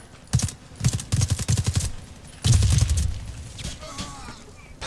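Rapid bursts of gunfire from a first-person shooter, Warface, crackle in several quick volleys, near and loud, with a longer sustained burst after a short pause.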